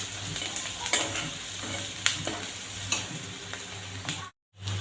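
Onion frying in a pan with a pinch of salt gives a steady, close sizzle with periodic scraping stirs of a spatula about once a second, followed by a brief dropout near the end.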